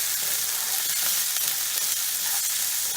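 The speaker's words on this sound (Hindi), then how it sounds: "टिके फ्राई करदे तेल सहित" Carrots frying in oil in a pan for vegetable cheese pasta, a continuous dense sizzle heard close and fairly loud, no talking.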